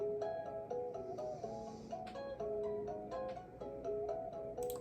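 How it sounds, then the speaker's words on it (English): A duplicated chorus sample pitched up an octave in an FL Studio beat, bright chiming tones layered in a repeating pattern over ticking percussion, faint and without speech. "I went ahead and duplicated it and pitched it up 12 semitones"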